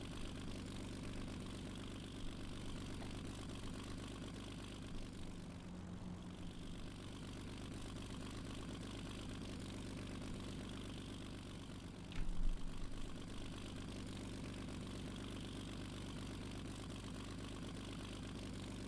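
Twin engines of a P-38 Lightning fighter idle with a steady low drone while taxiing in a flight simulator game, a brief throttle swell rising near the end, with no talk.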